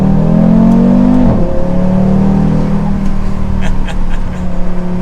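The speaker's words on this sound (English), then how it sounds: "We'll finish it up with one more acceleration, because" An Audi RS3 with an active exhaust pulls hard in acceleration, its engine note loud and close with a strong rising drone that dips after a second and then holds steady through the rest of the pull.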